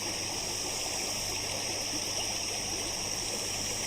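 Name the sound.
water flowing among trees in a forest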